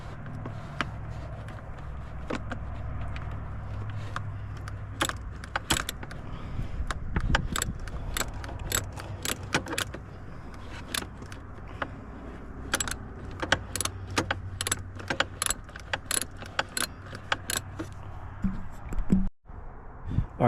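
Metal wrench clicks and clinks against bolts while fastening a main oil tank on a Mercury Optimax 200 outboard, a steady run of sharp, close ticks over a low hum.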